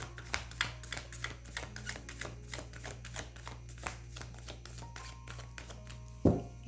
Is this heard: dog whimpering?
no